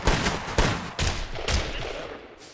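A handful of separate gunshots in SCUM, about four evenly spaced reports at roughly half-second intervals, each a sharp crack with a short tail, moderately loud and close.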